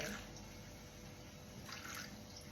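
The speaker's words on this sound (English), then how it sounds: "And then 50 grams of warm water." Warm water is poured out for a sourdough starter as a soft, steady trickle lasting a couple of seconds, with no voices.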